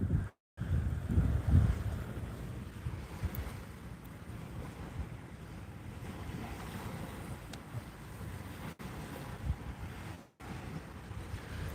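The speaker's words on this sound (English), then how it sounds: "Wind's picking up." Wind blows over Lake Huron with whitecaps out on the water, a steady rushing buffet against the microphone with lapping waves beneath, and no talk.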